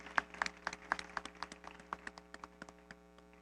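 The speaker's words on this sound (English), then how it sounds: "Let's keep the round of applause going" Clapping from an audience at a Tobago Day awards ceremony in 2023, a sparse, uneven patter of individual claps that thins out over a few seconds, with a faint steady hum underneath.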